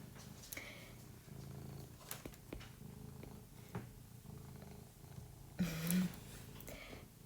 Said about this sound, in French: c'est pas moi qui ronronne, il y a un petit chat qui adore les maths par ici